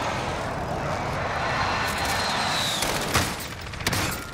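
In the video game Warzone, an airstrike aircraft roars overhead, its loud sustained engine wash sweeping past with a faint whistling tone, then closing with a few sharp impact cracks.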